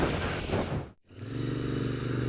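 A 2018 Royal Enfield Interceptor 650 motorcycle being ridden, its engine droning steadily up close with wind noise, briefly cutting out for a moment before the throbbing returns.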